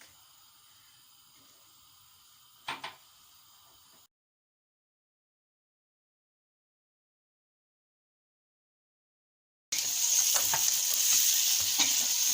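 Onions sauté in olive oil in a pot: a faint clink is followed by a long silence, then a steady, close sizzle rises for the last couple of seconds.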